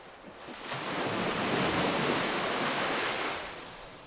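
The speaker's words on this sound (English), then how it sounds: "Just the ocean." Ocean waves at a lighthouse swell into a broad hissing wash of surf that builds, holds for a couple of seconds and then recedes, with wind noise and no voices.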